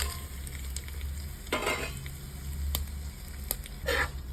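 Ingredients frying in hot oil and ghee make a soft, continuous sizzle, broken by a few bursts of louder crackle as a spoon stirs them close by.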